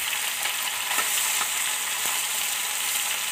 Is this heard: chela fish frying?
yes